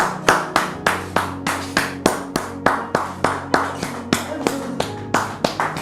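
Studio audience welcoming a guest with rhythmic, evenly spaced group clapping, a steady beat of sharp hand claps, about three per second, that stays close and loud throughout.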